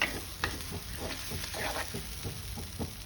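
Chopped tomatoes and capsicum sizzle in a hot pan under a steady frying hiss, with repeated scraping strokes of a spoon stirring them at an even rhythm.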